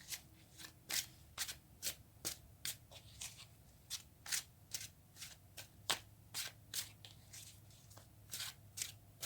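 Tarot cards are shuffled by hand in close, faint, evenly spaced crisp flicks and riffles that repeat steadily, with no voices heard.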